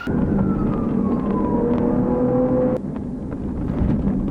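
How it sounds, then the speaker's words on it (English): A police siren wails loudly nearby at a truck stop, its pitch sweeping down and then cutting abruptly to a lower tone over engine rumble. "Lights and sirens, really?"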